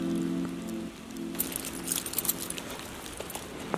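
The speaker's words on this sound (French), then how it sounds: "Regarde la grêle qu'il y a sur mon pare-brise quoi, c'est n'importe quoi." Hail pelting the windshield of a van in a downpour: a dense, steady patter with sharper individual hits standing out, close and continuous, with no talking.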